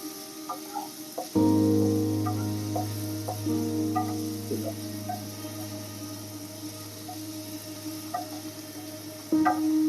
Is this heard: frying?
yes